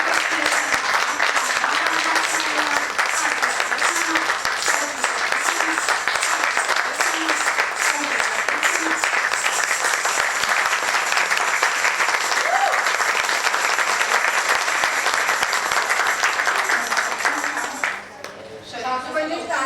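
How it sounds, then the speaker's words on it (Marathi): A group of women claps continuously during a traditional Mangalagaur game, steady crowded applause running for most of the time with voices mixed in, then breaking off near the end. "सासूबाईंनी टाळ्या वाजवल्या."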